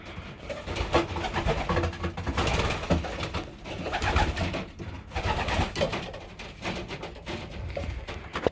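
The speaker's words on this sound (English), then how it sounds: "They're all excited, flapping around all their perches." Pigeons in a loft flap around their perches, a busy flurry of wingbeats mixed with soft cooing, steady and close throughout with no talk.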